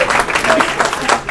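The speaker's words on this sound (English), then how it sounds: "So let's give her a round of applause." Loud, close crowd applause at a community race event, a thick continuous burst of clapping mixed with some cheering voices.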